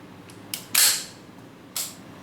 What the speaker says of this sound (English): Now we test the short version magazine in full auto mode.